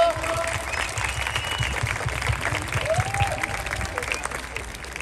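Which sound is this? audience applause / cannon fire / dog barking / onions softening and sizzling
audience applause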